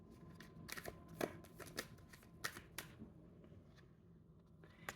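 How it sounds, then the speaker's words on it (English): Tarot cards are shuffled by hand in a quiet room, producing soft riffling bursts and sharp snapping flicks at an irregular pace, close and fairly faint. "let's keep shuffling."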